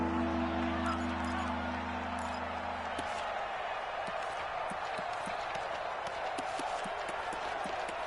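Stadium crowd noise in the Madden 20 football video game swells into a steady roar of cheering ahead of a big third down, continuous and broad, with a low droning hum fading out in the first few seconds.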